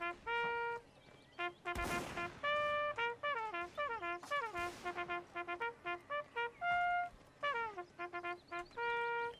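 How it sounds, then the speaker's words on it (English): A horn playing a lively multi-note tune in a Mount & Blade North & South mod line battle, bright sustained tones in quick melodic phrases with a couple of sharp bursts of noise under the music. "Fine horn work from Chad today"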